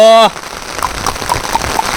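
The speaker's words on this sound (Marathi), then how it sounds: "पाऊस आला मित्रांनो पाऊस आला" Steady rain falls in a green Konkan village, a fine continuous patter beginning right after a brief tonal sound at the start and holding at moderate level throughout.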